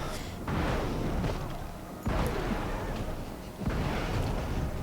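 Three deep, muffled booming launches of the engineer's slow underwater torpedo auto attack in Guild Wars 2, each swelling and fading like a heavy submerged thud.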